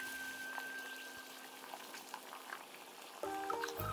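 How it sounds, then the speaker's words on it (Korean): Wheat rice cakes simmer in a pot of water that was first used to boil Chinese glass noodles, giving a faint steady bubbling close by, with a louder clink of cookware at the end. "당면을 삶았던 물에 누들밀떡을 넣고 삶아줍니다"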